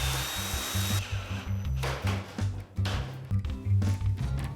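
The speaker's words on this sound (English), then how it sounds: "the top corner clip can be joined in place and then drilled and secured with the screws" A drill runs in short, repeated bursts while driving screws through metal corner clips on a Titan Pro metal bike and garden storage shed, with a low motor hum and clunks of tool contact, close and fairly loud.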